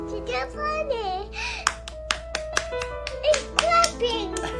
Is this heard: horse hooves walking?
no